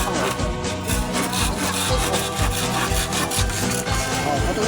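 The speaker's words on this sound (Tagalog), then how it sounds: "Katalas ng ating lagari oh." A hand saw cuts through wood in steady back-and-forth strokes, loud and close, with a rough rasping rhythm throughout.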